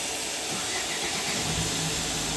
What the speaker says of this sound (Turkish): Çalıştırıyoruz tekrar.